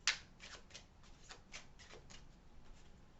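Tarot cards being shuffled, a sharp riffle at the start followed by a steady series of soft, even card flicks at moderate distance, fairly quiet with no talk.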